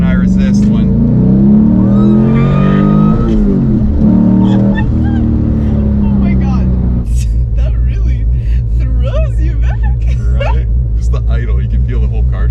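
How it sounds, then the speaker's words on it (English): A cammed LS V8 swapped into a Porsche 911 revs loudly, rising and falling, then settles into a deep, lumpy rumbling idle close by, while a person speaks over it. "hear that little rumble. Classic V8 sound."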